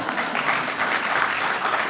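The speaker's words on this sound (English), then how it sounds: "Now you can clap." Audience clapping at a Eugene Parks Foundation talk, a short, continuous burst of even applause filling the room without speech.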